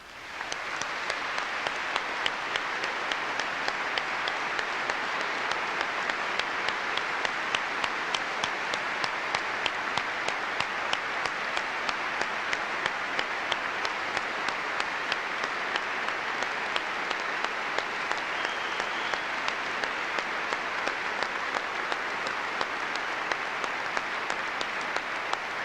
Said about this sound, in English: let us give them all a round of applause